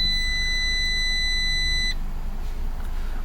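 A steady high-pitched electronic dashboard warning beep sounds continuously for about two seconds in a 2012–2019 Fiat 500 with the key in the on position, then stops, leaving a low idling hum.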